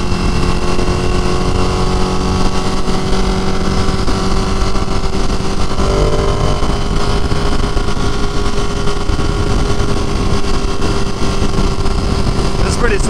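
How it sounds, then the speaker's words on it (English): Ducati Panigale motorcycle riding on the road, a loud continuous engine drone with wind rush throughout, a rising tone shift midway, while a rider talks over it. "This dude runs up on an 1199 Panigale."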